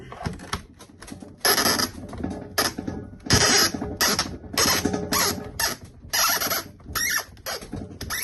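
Screws caked with concrete being undone on a STIHL TS420 petrol cut-off saw, a series of close gritty scraping and creaking bursts separated by short pauses, with metallic clicks between them.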